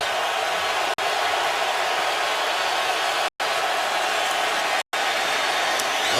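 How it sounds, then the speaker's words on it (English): Falcons fans roaring in a stadium at a football game, a loud, continuous wall of crowd noise broken by a few brief dropouts. "Crowd noise a factor every time you're on the road in a backed up situation"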